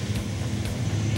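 A custom car's engine idles with a low, even purr, a steady close rumble carrying on without break and with no voices over it.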